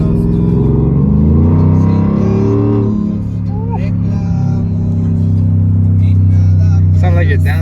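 A Ford F-150 Lightning truck's engine rumbles loudly from inside the cab as it accelerates, the pitch dropping as it downshifts, with people talking over the steady drone.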